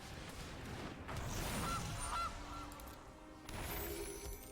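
Goose honks from the Gilded Goose card in the Magic: The Gathering video game sound faintly over a noisy background, two or three short honks in quick succession.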